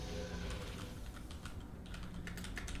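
Rapid, steady clatter of typing on a mechanical keyboard fitted with loud panda switches, close and continuous with no talk over it.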